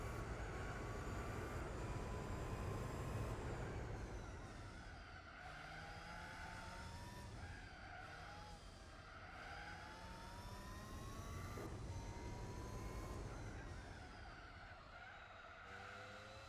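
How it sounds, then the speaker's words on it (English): Tyres screech and squeal in Gran Turismo 4 racing, a sustained wavering skid over a steady engine drone, rising and falling across the turn without a break. "those tyres are burning"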